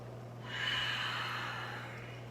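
One steady, audible breath is drawn in and let out during a power yoga pose, calm and close, with a low hum underneath.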